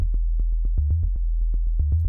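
A low, round sine-wave synth tone from a free FM synthesizer plugin plays as a steady bass note with soft plucked pulses repeating in an uneven rhythm, alone and fairly loud.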